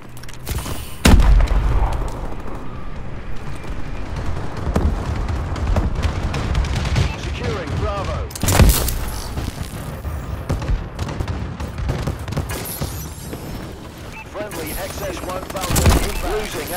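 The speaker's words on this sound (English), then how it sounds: "Enemy bombing run incoming" Heavy explosions from an enemy bombing run in Call of Duty: Advanced Warfare, loud booming blasts at irregular intervals over continuous gunfire and rumbling battle noise.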